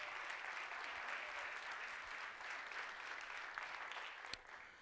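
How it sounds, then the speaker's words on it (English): Audience applause at a Petoskey Chamber community event in a historic Northern Michigan venue, a steady even round of clapping from a seated crowd, fairly faint and continuous. "So let's give them a round of applause as well."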